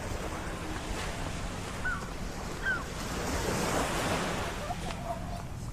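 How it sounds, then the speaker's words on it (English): Small waves lapping on the Port Orchard waterfront after a storm, a steady soft wash of water with some wind rumble on the microphone and a few faint high chirps, no talking. "So now we have just nice little waves instead of the storm we had earlier"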